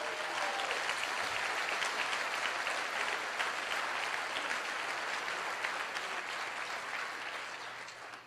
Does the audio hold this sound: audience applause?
yes